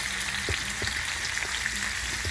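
Tomato frying in a pan as the base of a pasta sauce, giving a steady, close sizzle and crackle with light stirring clicks and no voices.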